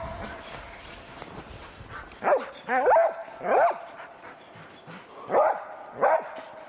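A hunting dog barks five times from some distance, in short bursts with pauses between, over quiet outdoor background.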